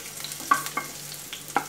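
Chopped garlic, ginger and chili sizzling in less than half a teaspoon of oil in a pan, a soft, steady frying hiss punctuated by a few sharp scrapes as a spoon stirs them.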